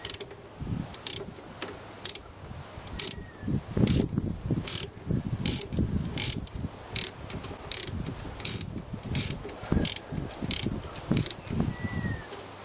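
A spanner loosens the positive terminal on a vehicle battery, giving repeated close metallic ratcheting clicks and scrapes in an uneven rhythm, with sharp taps scattered throughout.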